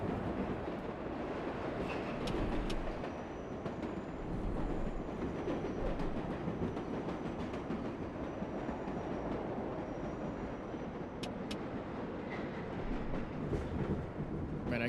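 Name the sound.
subway train running in World of Subways 4 video game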